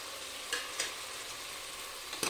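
Tomato and cucumber pieces stirred in a frying pan, with a steady close sizzle and a few sharp scraping strokes of the spoon, and no talk.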